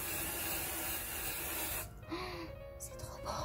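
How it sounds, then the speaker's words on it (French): An aerosol can of fake snow sprays onto a Christmas tree, a steady close hiss for nearly two seconds that then cuts off, followed by quieter handling. "je me suis munie de ma bombe en spray de fausse neige et je vais essayer de le rendre assez crédible"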